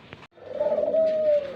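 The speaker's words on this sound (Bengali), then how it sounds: "এখানে একজোড়া অস্ট্রেলিয়ার সাদা ঘুঘু আছে" A pair of Australian white doves at a pigeon farm give a soft, close coo, one brief note followed by a longer drawn-out call, with no voices over it.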